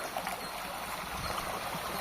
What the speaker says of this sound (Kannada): ನೀರು ಹರಿತಾ ಇದೆ.